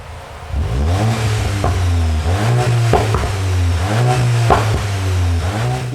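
A 2021 VW Golf 8 GTI with its stock exhaust accelerates hard through several gears, a loud, close engine note climbing repeatedly with brief dips at each shift.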